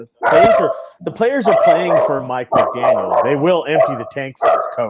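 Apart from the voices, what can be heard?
dog barking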